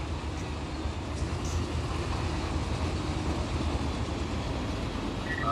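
A long intermodal train in the Run 8 train simulator rolls along, giving a steady low rumble and rail noise that stays even and continuous throughout.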